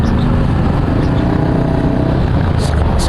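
Dense rush hour traffic in Kawit, Cavite, with cars and motorcycles forming a loud, continuous engine rumble and passing-vehicle noise close by, without talk.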